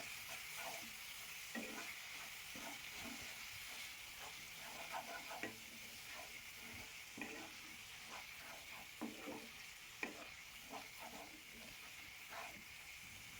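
Spice mix with turmeric, cumin, coriander and black pepper powders stirred in a pan, soft scraping strokes over a quiet steady sizzle, close and low in level.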